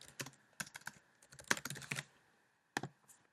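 Quick, uneven bursts of clicking keys on a computer keyboard as a short reminder is typed in, with brief pauses between the clusters of keystrokes.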